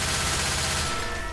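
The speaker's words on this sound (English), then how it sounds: "Taking the machine gun." Rapid machine gun fire in Left 4 Dead 2 rattles in a dense, continuous burst, loud and close, tapering slightly at the end.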